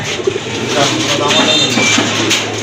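High flyer pigeons coo at a bird market, with soft, low, repeated calls heard under steady crowd noise and nearby talking.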